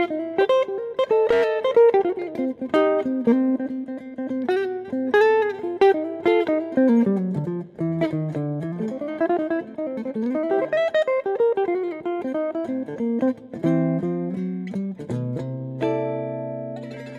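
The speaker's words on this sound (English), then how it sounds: "And I shall play it through the second prize of the raffle, which is the Fender Blues Junior." A Fibonacci Americano electric guitar played through a Fender Blues Junior amplifier carries a clean, flowing melodic line of plucked single notes and chords that ring out steadily and fairly close, with no talking.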